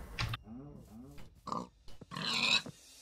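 Minecraft pig grunts in a game world, two short nasal grunts followed by a brief louder squeal-like call, with scattered game sounds and some talking around them.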